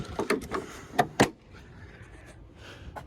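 Compartment latches on a 2020 International HX620 truck are worked by hand: a few quick metallic clacks and knocks, two sharper snaps near the end, then quiet handling noise.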